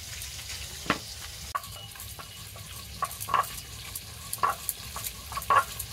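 Fish frying in oil gives a soft, low sizzle with several sharper clinks and scrapes of stirring scattered through, fairly quiet and with no voices.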